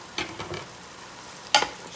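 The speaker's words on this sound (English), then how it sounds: "I'm going to take this top off and look at it and stir it up a little" Shrimp and mixed vegetables being stirred in a Power XL cooker after the lid is lifted, with a few soft scraping strokes early on and one sharper clatter near the end over a quiet background.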